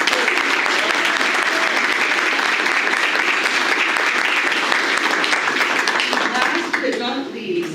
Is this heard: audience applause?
yes